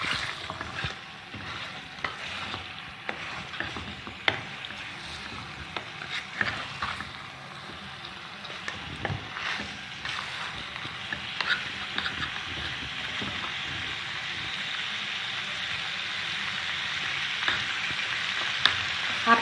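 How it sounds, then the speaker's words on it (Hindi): Mutton chops frying in oil over a high flame, with a steady bright sizzle running the whole time and soft scrapes and knocks of stirring scattered throughout, no voices. "ऑयल डालेंगे और इसको 5 मिनट हमने बस मज़ीद भूनना है ताकि ये और मज़ेदार हो जाए, क्रिस्पी हो जाए।"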